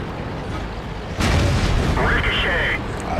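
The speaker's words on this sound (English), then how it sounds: "Ricochet. I bounce off of him." A tank shell ricochets off an enemy KV-5 in World of Tanks, a sudden loud metallic boom and clang that bursts in partway through and rings on under continuous game noise and voice.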